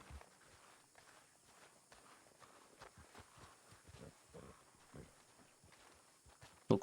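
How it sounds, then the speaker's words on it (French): A horse's hooves clip-clop along in the video game Red Dead, a steady walking rhythm of soft, fairly close hoof falls, ending with a sharp louder knock. "Vraiment, Victoria, un magnifique cheval que vous possédez."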